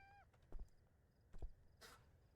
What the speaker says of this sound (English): sometimes I don't expect the meows and those scare me as well